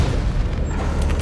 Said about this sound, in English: I like how he turned around for like the explosion.